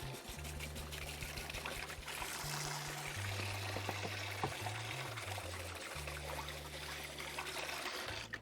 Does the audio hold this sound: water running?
yes